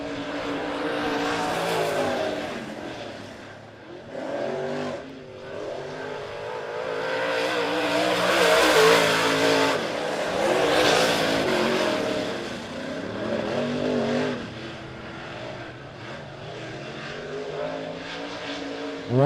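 USRA Modified race cars roar around Monett Motor Speedway during a heat race, engines swelling and fading as the pack passes, loud and continuous with rising and falling revs.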